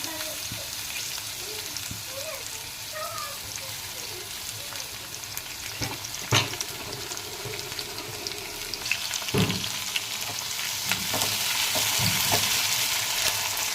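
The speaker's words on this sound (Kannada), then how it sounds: "ಇವಾಗ ಕ್ಯಾಪ್ಸಿಕಮ್ ಹಾಕ್ತಾ ಇದ್ದೀನಿ" Capsicum frying and being stirred in a pan with oil, a steady close sizzle with occasional scraping knocks of the spoon against the pan, no talking.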